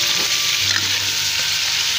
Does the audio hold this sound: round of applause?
no